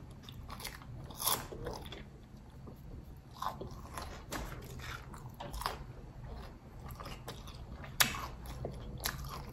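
Close, crisp crunches of someone biting into and chewing a homemade egg roll, sharp bites recurring every second or two over steady wet chewing, with no talking.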